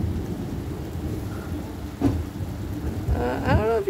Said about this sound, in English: We're in a thunderstorm, thunder lightning storm.